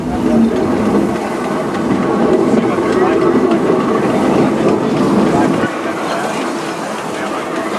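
The Silver Dollar City excursion train rolls along its rails with a steady rumbling clatter and rhythmic wheel noise, loud and close, while a voice talks over it.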